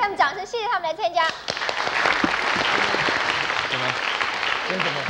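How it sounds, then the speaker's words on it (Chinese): Studio audience applause on a 1980s Taiwanese TV guessing-game show breaks out after a host speaks, swelling into sustained dense clapping that fills the remainder. "那么我们再给他们掌声，谢谢他们来参加"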